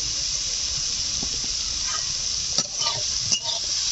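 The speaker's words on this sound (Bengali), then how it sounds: "দিয়ে দিচ্ছি পাঁচফোড়ন।" Panch phoron spices hitting hot oil for a village-style bamboo shoot pickle, giving a steady close sizzle with a few sharper crackles and pops near the end, no talking.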